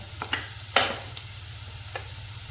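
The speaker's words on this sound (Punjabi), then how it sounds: "ਆਪਾਂ ਹੁਣ ਇਹਦੇ ਵਿੱਚ ਪਾਵਾਂਗੇ ਮਟਰ" Peas dropped into a frying pan for a mixed vegetable paneer parantha filling, giving a soft sizzle with a few brief clinks and a scraping stir, close up and quiet, with no voices.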